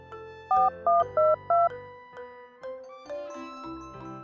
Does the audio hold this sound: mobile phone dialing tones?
yes